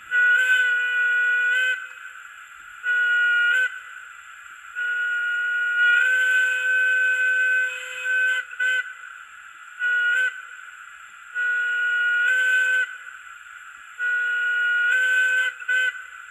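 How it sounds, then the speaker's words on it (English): Repeated toots of varying length come from the steam whistle of a Rapido OO gauge Metropolitan Railway E Class model locomotive. The whistle sounds as a clear, close, tonal series of short and long blasts with brief gaps, and no talking. "So there you go, see we've got quite a few different sort of options with the whistle."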